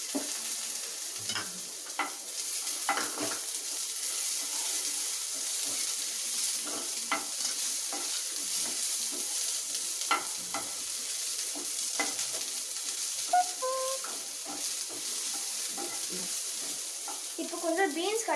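Carrots fry and sizzle in a pan with onions, a steady hiss broken by scraping stirring strokes, with no talk over it.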